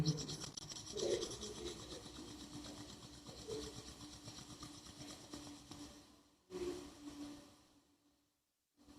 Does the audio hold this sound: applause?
no